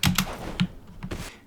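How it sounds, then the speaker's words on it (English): Loud computer keyboard typing, a few heavy, close keystrokes with deep thunking bottom-outs in an irregular rhythm, alone without talk. "So this video is about me doing something about my noisy keyboard."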